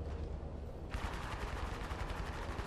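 Rapid bursts of automatic gunfire in the video game Apex Legends, a dense, steady rattle of shots that grows louder partway through, with no talk over it.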